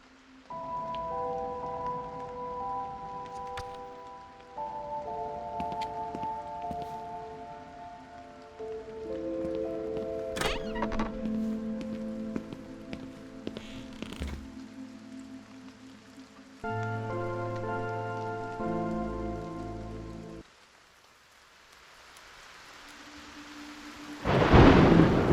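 Rain falls steadily with rumbling thunder in the horror game The Haunting of Joni Evers, layered under tonal game sounds, before a loud thunderclap bursts in at the end.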